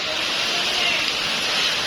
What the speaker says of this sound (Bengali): ছাদের মধ্যে কিন্তু বৃষ্টি হইতেছে